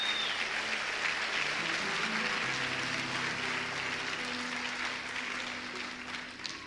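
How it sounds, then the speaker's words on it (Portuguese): A church congregation breaks into sustained applause, a broad, even roar of many hands clapping that holds steady before gradually thinning toward the end. "pode aplaudir, meu irmão"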